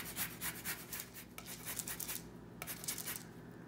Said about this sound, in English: Just gonna zest our lemon.